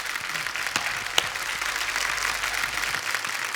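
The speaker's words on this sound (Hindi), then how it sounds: "एक बार जोरदार तालियां हमारे सभी कंटेस्टेंट्स के लिए, और हमारे जजेस के लिए" A studio audience on a comedy talk show applauds contestants and judges, steady moderate clapping throughout with a few sharper claps standing out, no speech heard.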